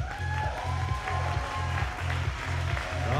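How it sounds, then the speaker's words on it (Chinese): An audience at a bodybuilding competition applauds in a steady wash of clapping, with a thumping rhythmic music beat underneath throughout. "源源不断的能量来自于观众的掌声。"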